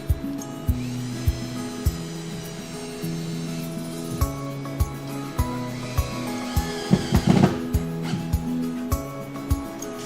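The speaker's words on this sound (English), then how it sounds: "go ahead and put 2 screws in it so it's not going to move" A power drill driving screws through a drywall patch, whirring in short repeated bursts with pauses between, fairly close and loud, with no talk over it.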